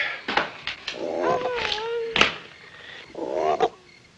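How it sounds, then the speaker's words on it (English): A few short croaking calls and warbling frog cries come in bursts, with sharp knocks between them, fairly close. "if you don't cut out that croaking, I might just pull the plug on you"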